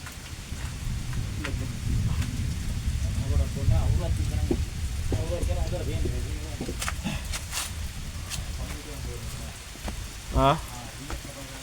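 Heavy rain pours at a rock cave on Maavaragala mountain near Dambana, a steady dense hiss of falling water close by, with people talking over it in places.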